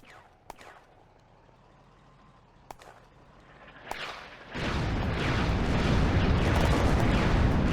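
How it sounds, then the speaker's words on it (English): A T-26 tank cooks off in a Soviet-German World War II tactical video game, a few sharp distant pops followed by a sudden loud, sustained roaring blast of fire and explosions that continues to the end. "The T-26 cooks off."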